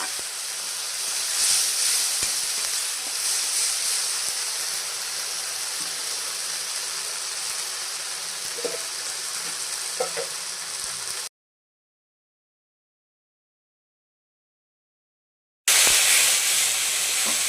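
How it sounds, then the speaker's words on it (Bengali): Fish spice masala sautéing in a pan for a fish bone curry, a continuous hissing sizzle with a few small clinks, cutting out to silence briefly before the sizzle returns loudly. "এই দেখুন এই যে মাছের মশলাটা কষানো হচ্ছে।"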